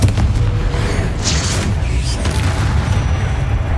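A Confringo blasting spell in the Hogwarts Legacy video game erupts as a loud, dense, sustained rumbling boom that fills the whole clip with heavy low-end roar.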